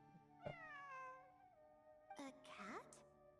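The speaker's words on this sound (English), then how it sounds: "It really is a cat." A cat in a video game meows twice, a drawn-out, clear meow followed by a shorter rising one, set against a steady tonal game soundtrack.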